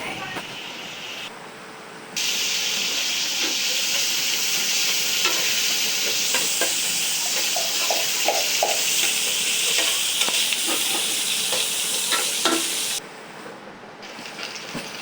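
Oil sizzles loudly in a pan for shrimp being cooked, a steady close hiss with light stirring clinks throughout, with a quieter lead-in and tail.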